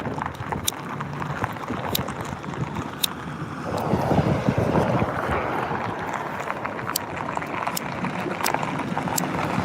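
Wind gusts over an open boat, a steady breathy rush buffeting the microphone that grows stronger partway through, with scattered light knocks and clicks and no talking.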